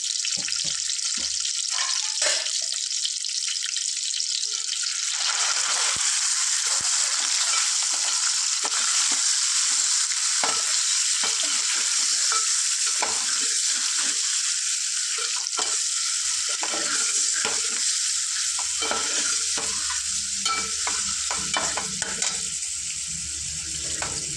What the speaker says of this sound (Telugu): సాల్ట్ కొద్దిగా పసుపు వేసుకొని ఫ్రై చేసుకుంటాం